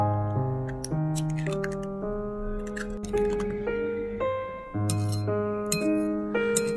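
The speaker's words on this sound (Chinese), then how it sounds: "然后用筷子把鸡蛋搅散，搅拌均匀。" Chopsticks beating eggs in a small bowl make a quick, steady run of light clinks and taps against the bowl, close and continuous.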